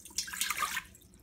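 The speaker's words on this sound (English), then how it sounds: "the first thing we need to do to the Instant Pot here is put in 1 cup of water." One cup of water poured into an Instant Pot, a short, soft splashing trickle heard faintly and close by, with no voices.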